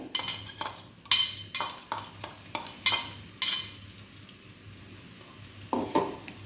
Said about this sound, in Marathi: छान फ्राय करायचं हे एक मिनिटभर